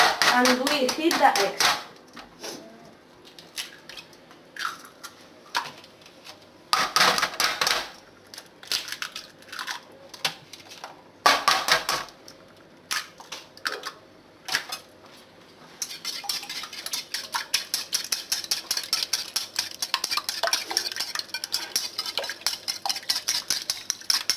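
Eggs beaten in a bowl with rapid, steady clinking strokes of utensil against the bowl, loudest in the final third, with short bursts of mixing and handling earlier in a school kitchen.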